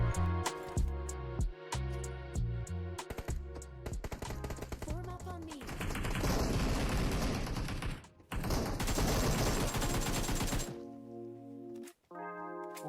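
Gunfire in the mobile battle-royale game PUBG Mobile, rapid bursts of shots mixed with heavy in-game effects and music-like tones, loud and dense through the middle, with a brief drop near the end.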